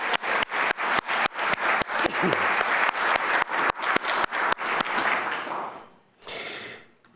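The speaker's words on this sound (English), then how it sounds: "Another round of applause for them, please." An audience applauds volunteers at an annual community meeting, a sustained crowd clapping with strong regular beats that fades out near the end, close and loud.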